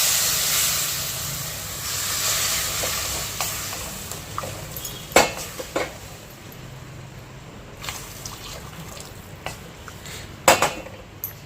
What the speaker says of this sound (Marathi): जे गरम पाणी करून ठेवलं आहे ना ते थोडं थोडं टाकायचं